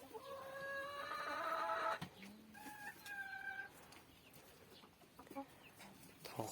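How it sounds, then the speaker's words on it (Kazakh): Chickens cluck in a farm poultry yard, a run of clear repeated calls up front followed by shorter scattered clucks and squawks, fairly close, with no talking. "Тауықтар осы"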